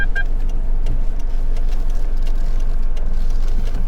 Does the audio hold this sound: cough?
no